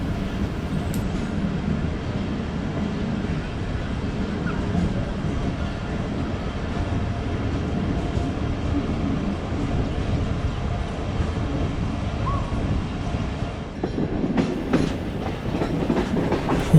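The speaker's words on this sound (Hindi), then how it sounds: "ट्रेन लेफ़्ट टर्न ले रही है कसूर की तरफ" Fareed Express passenger train diverting left onto the branch line toward Kasur, a steady rumbling roll with rhythmic clickety-clack of wheels over rail joints, heard from on board and growing busier toward the end.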